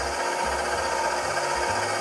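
An electric mixer runs steadily at high speed, whipping babka ingredients in a bowl, giving a continuous loud whirring hum that never breaks over the short span.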